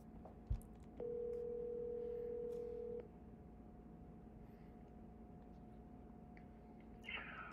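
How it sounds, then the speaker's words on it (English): A phone dials out with a short touch-tone beep, then a steady ringback tone holds for about two seconds before fading to a quiet line hum, near and clear with no talk. "All right, let me call Tim."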